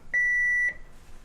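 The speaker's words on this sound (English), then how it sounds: "that's sort of what the alarm sounds like, but it'll be repeated like that. It's that kind of high-pitched alarm." A single high-pitched electronic low-drain alarm beep holds steady for about half a second, then cuts off, clear and alone with no talking.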